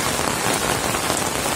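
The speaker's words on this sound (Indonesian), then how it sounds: "Hujan deh, aduh." Steady rain pours down in a village in Cugenang, a dense, loud, even hiss of drops hitting surfaces with no pauses and no voices.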